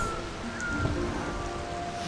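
Steady soft rain patters across a forest area in Sky: Children of the Light, a dense continuous wash of droplets with faint background tones and no talking.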